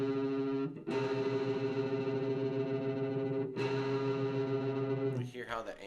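An electric guitar run through effects such as chorus and distortion sounds a sustained, wavering minor-second interval, struck twice and ringing loud with a warbly beating, then fading into a muddled tail.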